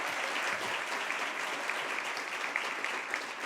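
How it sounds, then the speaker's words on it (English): An audience at a Central Ohio women's wealth event gives a quick round of applause, dense steady clapping from many hands at a moderate level throughout. "a quick round of applause for everybody who was part of that"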